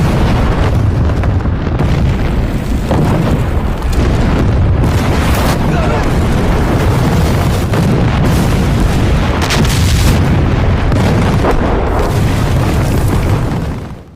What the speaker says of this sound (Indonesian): Tembakan artileri pun diluncurkan.